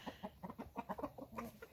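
A rooster tidbitting, making rapid, rhythmic clucking calls, a string of about a dozen short pulses close by, fairly steady and with no talk over them.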